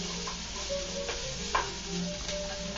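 Onions sizzling in a pan of olive oil and butter, a steady soft crackle with a few sharper pops and light stirring clinks, fairly quiet and close.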